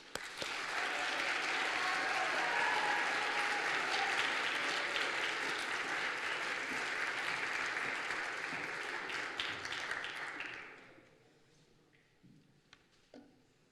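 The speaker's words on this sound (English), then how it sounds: "I would invite you to applaud our first storyteller up onto the" A chapel audience at Goshen College applauds a storyteller onto the stage, steady loud clapping for about ten seconds before it quickly dies away into a quiet room with a few stray sounds.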